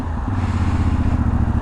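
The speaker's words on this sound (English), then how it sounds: "I gotta say, I do love even the stock exhaust note." IBEX 450 motorcycle with its stock exhaust while riding, a loud, close, throaty engine note pulsing steadily with rapid firing under the wind.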